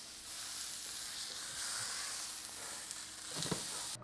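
Bison steak sears in a hot pan with a steady, loud broadband sizzle throughout, a brief sharper crackle or clink near the end, and no talking.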